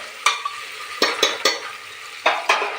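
Tomato, onion and garlic fry in a pan for dal khichdi, with about six sharp spatula strokes scraping and clattering over a steady close sizzle.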